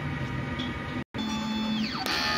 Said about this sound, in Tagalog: Ito ang kanyang printer head